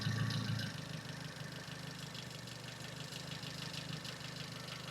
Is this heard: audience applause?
no